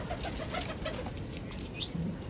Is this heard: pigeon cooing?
yes